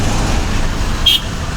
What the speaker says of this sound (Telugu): వారి దగ్గర స్వల్ప ట్రాఫిక్